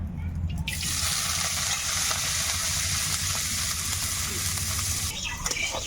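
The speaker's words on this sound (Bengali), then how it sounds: "এবার আমি বাঁধাকপিটাকে ভেজে নেব।" Cabbage frying in a pan for vegetarian fried rice gives a steady, loud, close sizzle that runs unbroken, with faint stirring scrapes underneath.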